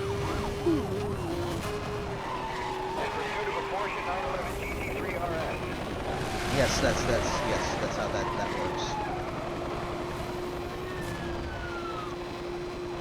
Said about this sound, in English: Why was that siren so apparent for a second?